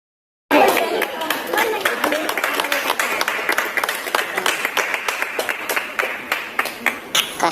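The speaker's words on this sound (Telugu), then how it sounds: "కస్టమర్ ఎంకరేజ్మెంట్ కోసం మా వాళ్ళు క్లాప్స్ కూడా కొట్టారండి" Shop staff applaud at the first sale of the iPhone 16, a sustained round of close, crisp clapping that starts abruptly and thins into scattered claps, with faint chatter beneath.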